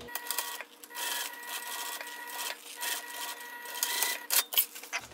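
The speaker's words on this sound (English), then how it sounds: "So let's back stitch." A sewing machine back stitching a seam in vinyl, a steady mechanical whir with brief pauses and a few sharper clicks near the end, close and fairly loud, no talking.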